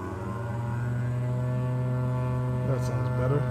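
Embraer 110 aircraft engines on a runway in Microsoft Flight Simulator drone as a steady, loud, low humming tone with a buzzing edge, holding constant throughout, with faint talk near the end.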